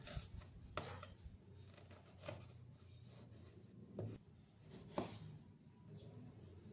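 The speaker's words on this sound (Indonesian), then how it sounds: "ini bumbunya selesai dipotong" Quiet, irregular knife chops on a cutting board as shallots and spices are cut, a handful of soft thuds spaced unevenly with faint scraping between them.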